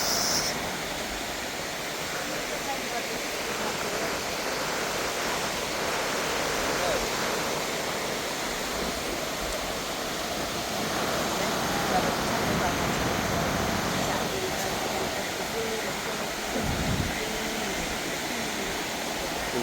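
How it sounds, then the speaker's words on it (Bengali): Sea waves break steadily on the shore of Saint Martin's Island, a continuous broad wash of surf that stays loud and even throughout, with no clear gaps between breakers. "দেখুন সেন্ট মার্টিনের ঢেউগুলো কত সুন্দরভাবে তীরে আশ্রয় পড়ছে।"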